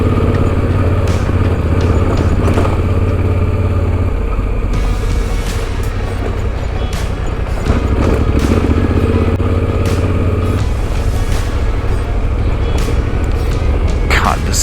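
A motorcycle climbs into cloud and fog on a trail ride, its engine loud and constant with shifting revs and wind buffeting throughout.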